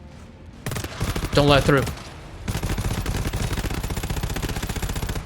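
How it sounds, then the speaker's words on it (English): SMG and shotgun fire in the co-op shooter GTFO, with a fast, steady stream of rattling automatic shots through most of the clip and a brief spoken line near the start. "SMG supremacy. Shotgun from a distance, because why not?"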